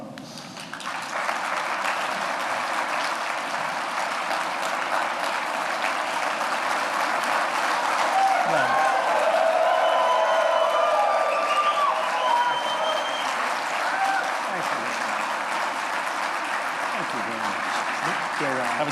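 A large crowd gives a sustained ovation as President Trump comes on stage. Continuous clapping and cheering swell and hold for many seconds, with voices rising above the roar.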